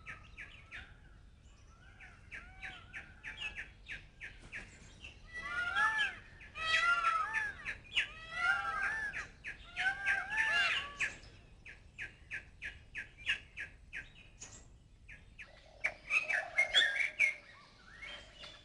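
Peacock calls ring out in a series of loud, nasal, wailing cries, some clustered in quick bursts, over quiet background with other bird chirps scattered between them.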